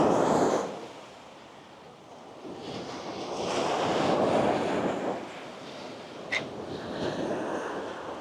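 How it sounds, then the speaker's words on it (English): Ocean surf rolls in at Thomas Beach in Uluwatu, Bali, a steady broadband wash that swells and fades with each wave, with wind buffeting the microphone and a brief sharp click near the end. "Very nice clean ocean here."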